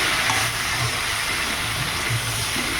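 Vegetables with green chilli frying in a pan for a hilsa fish curry, a steady close hiss and sizzle running throughout with no pauses.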